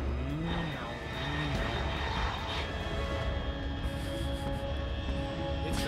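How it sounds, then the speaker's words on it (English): An aircraft engine drones overhead in Metal Gear Solid 3: Snake Eater, a steady, loud, unbroken roar filling the whole stretch, with a voice speaking over it at moments. "Control, unidentified aircraft detected,"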